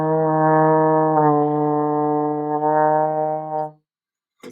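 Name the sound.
trombone playing four slurred notes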